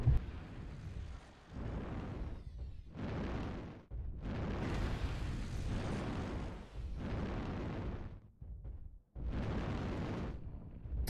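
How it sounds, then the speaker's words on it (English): Artillery strike in a mech combat video game: a run of heavy, rumbling explosions arriving in several long bursts with short gaps, loud and dense throughout. "Ooh, artillery strike."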